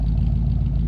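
A 1969 or 1971 Ford F100 pickup's long-abandoned engine runs after its first start, a loud, steady low rumble with a faint clattery edge and no voices over it.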